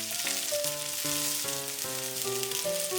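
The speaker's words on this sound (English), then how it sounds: "Put the noodle in the pan and evenly distribute it." Chow mein noodles crisping in oil in a pan give off a steady, bright sizzle, with a series of short rising tonal notes layered over the frying, and nobody speaks.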